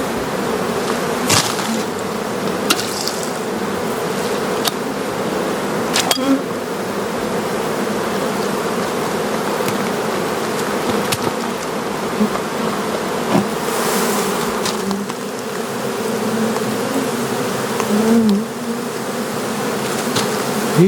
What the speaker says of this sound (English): I always get better results when I'm feeding the bees at the same time that we're building cells